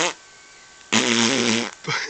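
Fart sound effects played to a baby, one brief burst at the start, then a longer loud buzzy blast after a pause and a short final toot, loud and close.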